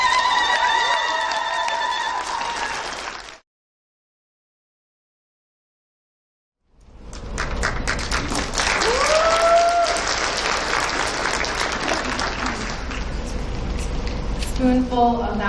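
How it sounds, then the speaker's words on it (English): Audience applause at a poetry slam: a short burst of clapping, then a gap of silence, followed by a longer stretch of lively clapping with cheers and crowd noise; a voice speaks near the end. "let's give a round of applause for Brianna Reed"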